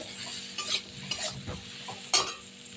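Papaya and potato curry being stirred in a pan, with a few soft scraping strokes and light sizzling, one sharper clink of a spoon near the end, no talking.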